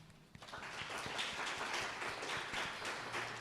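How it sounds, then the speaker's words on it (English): School speech-day audience applauding an absent lower-school prize winner, a soft, fairly distant patter of many hands clapping steadily with no talk over it. "can we give him a round of applause?"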